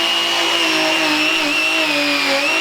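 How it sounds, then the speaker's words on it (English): A high-speed hammer drill spins a nylon brush against a live-edge wood slab, clearing debris with a loud, sustained whine that wavers slightly in pitch as the bristles work the surface. "what I have here is a nylon brush, but I use a high speed. This is a hammer drill."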